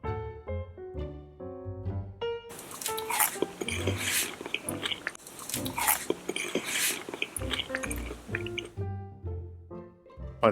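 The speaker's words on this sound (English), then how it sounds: "Listen to how crunchy they are." Crunchy fried patatas bravas potatoes being bitten and chewed close to the mic, with crisp crackling bites over soft background music.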